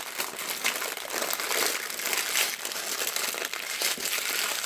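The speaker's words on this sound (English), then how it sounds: "Fold up the ends to a little messy packet." A hoagie sandwich is folded into a loose packet, likely foil, making steady close crinkling and crumpling that continues for several seconds with no talking.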